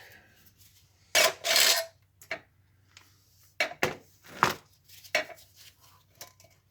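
Sanding metal near the rivets on a 2008 Mini Cooper, heard as several short rasping bursts of varying length separated by quiet gaps, close and fairly loud.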